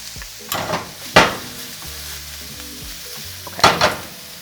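Mushrooms sautéing in a pan after a splash of pickle brine, with a steady close sizzle broken by a few louder scraping stirs and clatters.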